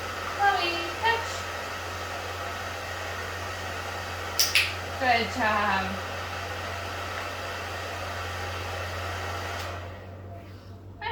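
A hair dryer runs continuously during a dog training session, a steady, close whooshing blow of air under brief praise from a person, then cuts off abruptly near the end.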